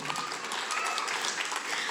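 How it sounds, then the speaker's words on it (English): A crowd at a school annual day celebration claps for the staff, a brisk, dense burst of applause with some faint voices mixed in, sustained and fairly even. "Please give them a clap."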